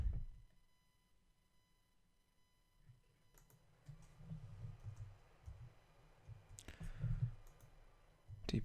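A few soft computer mouse clicks land in a quiet room, with short dull taps scattered in brief clusters around a longer silent stretch and no voices.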